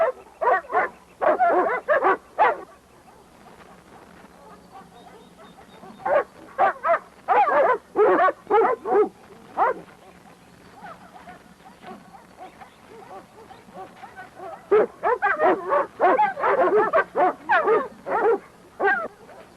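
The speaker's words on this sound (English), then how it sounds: "The dogs. They found a way down and they picked up our scent." Several dogs tracking a scent bark and yip in rapid bursts, loud and fairly close, with a pause in the middle before more volleys of barking resume, no speech.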